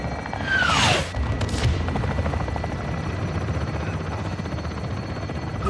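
Artillery fire strike in the Call of Duty: Modern Warfare II video game: a sharp whistling descent followed by heavy booming impacts and a rumbling, rattling barrage that continues steadily, loud and close, with no talk.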